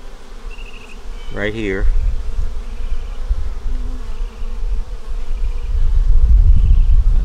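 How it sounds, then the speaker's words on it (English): Honeybees hum steadily around capped queen cells in an open hive, a dense close buzz swelling slightly over time, while a person speaks briefly and a short whistle-like tone rises once early on. "bees are hanging around a queen cell"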